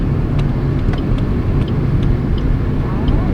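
A car driving during a driving lesson on the way back to Pak Chong, with a steady engine and road rumble running continuously throughout, close and fairly loud, with no clear talk over it.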